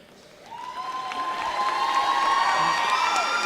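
A graduation commencement crowd swells into cheering, whoops and applause, rising from a quiet start to a steady roar with high shrill shouts on top.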